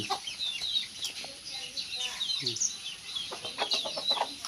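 Chickens clucking at a morning feeding, with several short, fairly faint clucks and bird calls close by at irregular intervals, scattered through soft background noise.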